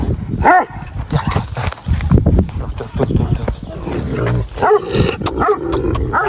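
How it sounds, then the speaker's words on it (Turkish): A chained dog barks and growls aggressively up close, in loud, repeated bursts, while a person talks intermittently over the noise. "Acayip hırslı bir köpek, belli yani."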